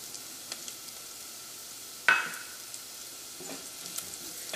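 Turmeric powder fries in hot oil with softened onions for a green peas curry, a quiet steady sizzle broken by one sharp crackle.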